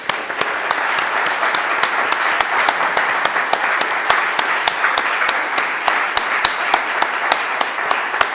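A conference audience breaks into sustained, loud applause, dense clapping that fills the room steadily from start to finish with no talk over it.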